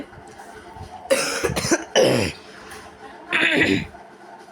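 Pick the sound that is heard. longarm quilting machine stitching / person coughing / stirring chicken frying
person coughing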